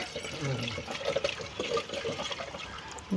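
Leftover water splashes into a cooking pot in uneven gurgling bursts, fairly close, with a louder slosh right at the end.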